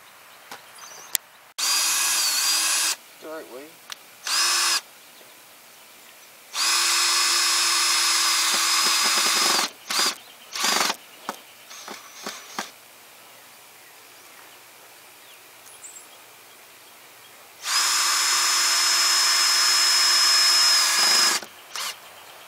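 A power drill drives 1 5/8-inch self-tapping screws through a 1x6 decking board, with several loud whirring bursts of a few seconds each, separated by quiet gaps and small clicks and knocks.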